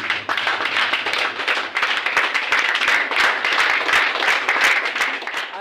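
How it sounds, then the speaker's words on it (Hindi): Dense, sustained applause from an audience at a State Life insurance area managers' sales conference, a steady wash of many hands clapping close and loud throughout. "भरपूर तालियां।"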